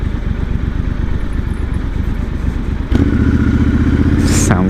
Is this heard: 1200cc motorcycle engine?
yes